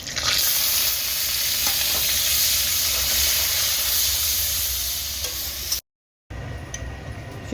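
Whole cumin seeds with minced ginger and garlic sizzling in hot oil, a steady loud hiss with stirring scrapes throughout, briefly cut off before resuming.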